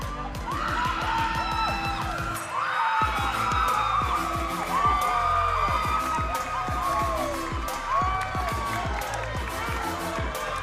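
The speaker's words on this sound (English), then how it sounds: "It is loud in this arena." A loud arena crowd at a Maryland versus Ohio State gymnastics meet roars and cheers continuously, with a sustained wash of voices and bursts of noise throughout.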